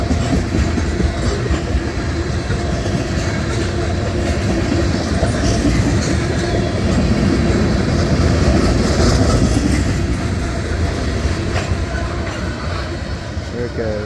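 A CSX freight train led by two Canadian National locomotives passes at close range in Western Pennsylvania, a loud continuous rumble with clattering wheels and rail noise throughout.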